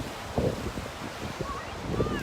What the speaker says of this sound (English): the water is a little bit loud, and I fear that you may not be able to hear them